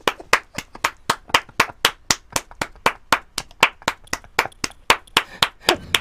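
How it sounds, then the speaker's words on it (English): Hand clapping from a character in the wrestling video game WWE 2K15, a steady series of sharp, close claps at a fast regular pace, about three per second, with no talk. "I'm just going to keep clapping until Goldberg's face is off the screen."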